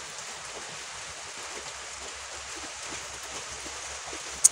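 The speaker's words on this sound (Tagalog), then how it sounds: "sinabutan na naman tayo ng ulan. Diba? Umuulan na naman." Steady rain falls over a vegetable garden, a soft, even hiss of drops holding through the whole stretch with one brief sharp tick near the end and no voices.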